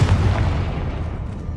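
A Confringo spell blast in Hogwarts Legacy lands as a loud, deep, rumbling boom that starts strong and keeps a heavy low roar going for over a second, with no talking over it.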